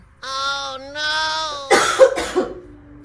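A person at home coughs in a few sharp, close bursts after a drawn-out voiced sound.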